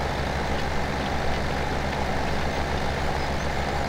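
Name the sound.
tractor engine while driving, from video game Landwirtschafts-Simulator 17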